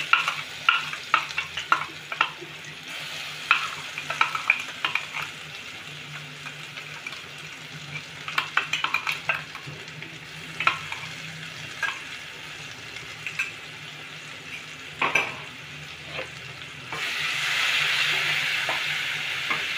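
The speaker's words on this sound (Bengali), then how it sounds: "এই মশলাটা একটু কষে নেব ভালো করে।" Ground spice paste (masala) for a rohu fish curry fries in a pan, giving a steady sizzle broken by repeated stirring scrapes and clicks, with a brighter, louder burst of frying near the end.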